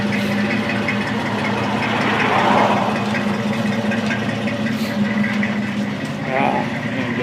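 An old truck idles steadily through Flowmaster mufflers, a continuous low, throaty engine rumble held close and loud, with someone talking over it.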